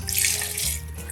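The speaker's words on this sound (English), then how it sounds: "Next step, I'm gonna put chicken stock." Chicken stock poured from above into a pot of cut vegetables for pumpkin soup, a steady close gushing splash lasting about a second with no talk.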